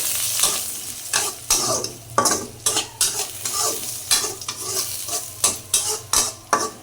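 Onions and cumin being fried in a pan, with rhythmic stirring strokes and scrapes over a steady close sizzle, repeated spatula hits roughly every half second.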